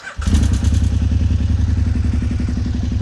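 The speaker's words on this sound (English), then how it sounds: "A little rattle initially on startup, and then it smooths right out." A KTM 990 Adventure motorcycle after a hydraulic restoration cranks and fires, then settles into a loud, close, rhythmic idle with a clattery, rattling thump at startup.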